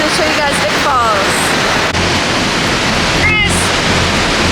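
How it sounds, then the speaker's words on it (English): Victoria Falls in Zimbabwe roars as a loud, unbroken broadband rush of falling water heard close up, with faint voices and a few whistle-like tones mixed into the constant roar. "I'm gonna turn it around and show you guys Vic Falls"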